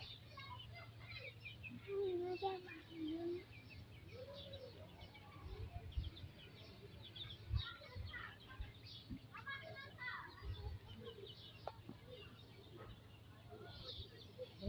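Hens on a small chicken farm give soft, intermittent clucks and calls, with a brief clearer bird call early on, set against a steady low hum and faint background voices and children's sounds.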